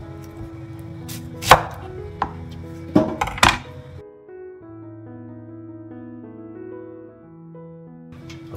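A knife slices food on a board in the kitchen, with a few sharp separate chops against a steady background of music.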